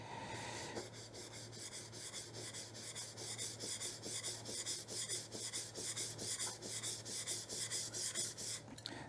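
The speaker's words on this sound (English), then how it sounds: "all the pressure is up over on this end on the stone, so you don't tip it like this, because then you're not going to be flattening the back" The back of a hand plane blade rubbed flat on a sharpening stone, a steady close rasping stroke repeated back and forth in an even rhythm, with no talk.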